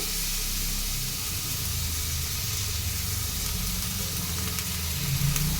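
Sago (sabudana) frying in a pan while being stirred, a steady, continuous sizzle and hiss heard up close with no talking.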